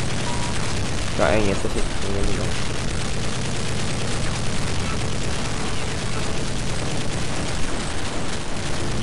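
Rapid gunfire and booming blasts from Counter-Strike Nexon: Zombies fill the whole stretch as a dense, continuous barrage, with a voice briefly speaking over the din.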